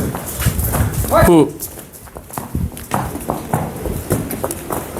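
A mare's hooves clop on the ground close by, with a brief whinny-like burst early on, while several people talk loudly over and around the hoofbeats.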